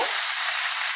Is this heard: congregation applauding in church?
no